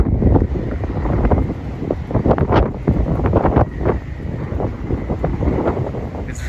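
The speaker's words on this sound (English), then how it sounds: "Really windy. I'm trying not to let the phone get knocked out of my hand." Strong wind buffets the microphone on a ferry in the San Juan Islands in loud, continuous rumbling gusts, with a low engine-like drone and choppy water noise beneath.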